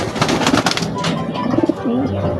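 Racing homing pigeons coo and call close by during a group training session in the north, with rustling activity and a steady, fairly loud flock murmur throughout.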